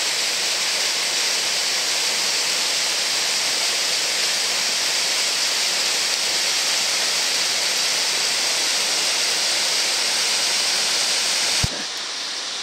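A waterfall rushes in snowy mountains, a dense steady roar that holds evenly for a long stretch before cutting off abruptly near the end.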